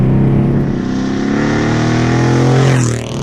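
A loud, close Mercedes-Benz CLS63 AMG 5.5-liter V8 engine revving hard, a deep throaty roar climbing in pitch and then dropping off as the throttle eases.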